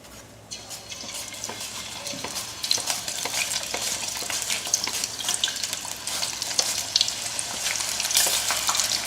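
Potato slices stirred by hand in a bowl of salted water, a steady watery swishing and sloshing that continues throughout with light splashes, no voices.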